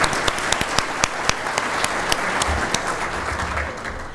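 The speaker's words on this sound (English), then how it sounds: "Let's give them a round of applause." Applause from a conference audience, steady clapping from many hands with a few sharp louder claps standing out, filling the room for several seconds with no voices over it.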